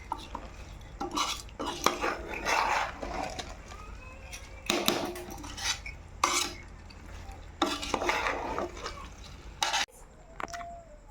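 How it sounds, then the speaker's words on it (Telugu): Mutton pieces, masala and rice for a biryani-style pulao are mixed together in a pot, with repeated scraping spoon strokes and clinks against the metal in irregular bursts, close and fairly quiet, over a low background hum. "ముక్కలు మసాలా బియ్యం మూడు కలిసేట్టుగా మొత్తం కలుపుకుంటున్నా"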